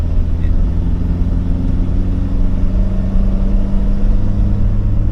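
A small classic Fiat car engine drones steadily at high revs while driving up into hills, a continuous near rumble with a faint voice murmuring underneath.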